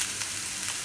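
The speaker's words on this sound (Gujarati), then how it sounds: "હવે આપણે આ જે બટેટા છે એને આપણે થોડાક છીણીને નાખી દઉં આમાં." Grated potato sizzling steadily in a pan over low gas while making masoor paratha, a soft continuous hiss of frying with no voices.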